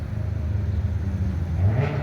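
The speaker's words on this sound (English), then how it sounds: "Look, a big noisy car." A big, noisy car passes along a small-town street in Jackson, Ohio. Its low engine rumble stays moderate and swells briefly toward the end as it goes by.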